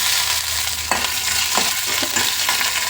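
Crushed cloves, cinnamon, garlic and ginger fry in oil with urad dal, giving a dense, close sizzle with a few stirring scrapes over a short stretch.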